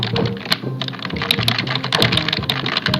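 Fast, dense clicking and clacking of a computer keyboard during gameplay of The Escapists, close and loud with no talk over it.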